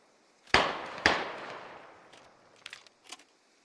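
Two sharp, loud rifle shots from an AR in a tactical shooter match, ringing out with a long decaying tail, followed by a few fainter, more distant bursts of gunfire.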